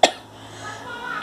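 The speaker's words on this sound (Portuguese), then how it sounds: "Tossindo." A sudden, close cough bursts out at the start from a person recovering from strabismus eye surgery, followed by quiet room tone and the onset of another cough at the end.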